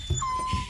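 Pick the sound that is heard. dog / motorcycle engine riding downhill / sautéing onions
dog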